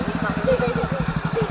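A motorcycle pulls up at home, its engine chugging with a steady low pulsing throb throughout, close and fairly loud, while voices talk over it.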